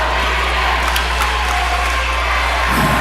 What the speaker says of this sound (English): This nice crowd trying to get up into it.